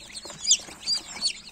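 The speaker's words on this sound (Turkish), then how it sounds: "Efsane güzel civcivler çıkıyor." Newly hatched chicks from an incubator give three high, thin peeps in quick succession, close and clear with no talking.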